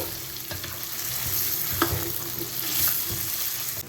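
Chicken bone pieces fry in oil until crispy for a pickle, a steady close sizzle with occasional light clinks of a stirring spoon and no talk.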